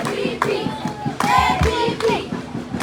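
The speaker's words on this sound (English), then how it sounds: "A round of applause for Nicole Adama, aspiring to be the next Su" Hands clap for an aspirant at a children's mock governor manifesto event, uneven, scattered claps with thumps, mixed with children's voices nearby.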